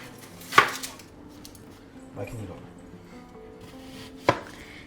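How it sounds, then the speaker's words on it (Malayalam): A knife chops onions for prawn biryani on a cutting board: three sharp, separate strikes spaced a second or more apart, close and clear against a quiet kitchen. "പ്രോൺസ് ബിരിയാണിക്ക് വേണ്ടി ഉള്ളി അരിയാൻ പോവുകയാണ്"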